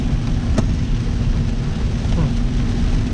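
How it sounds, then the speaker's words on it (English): Heavy torrential rain pouring down on a river fishing trip, a dense constant hiss and roar that stays loud and unbroken, with a single sharp knock early on. "Torrential downpour."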